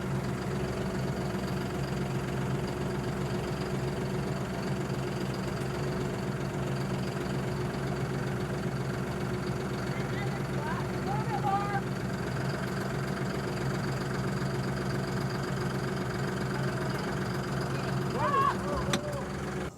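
A vehicle engine runs at a steady idle-like hum close by during a shelter building setup, droning continuously with faint voices and a few light knocks over it.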